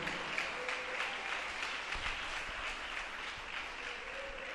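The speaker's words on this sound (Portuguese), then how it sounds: "Glorifica a Deus, aplaude ao Senhor." A church congregation claps during a worship service, a steady dense patter of many hands held at moderate distance for the whole stretch, with no talking over it.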